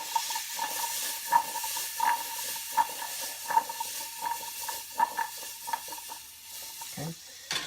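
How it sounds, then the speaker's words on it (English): Hissing, sizzling steam from a pot boiling close by, with faint clinks and stirring sounds scattered throughout. "The boiling, getting it hot, is going to cause it to steam"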